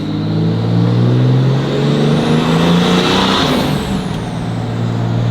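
A third-generation Cummins diesel truck with a new high-horsepower transmission accelerates on a pull, its engine roaring loud and close in a steady, continuous drone that rises in pitch toward the end.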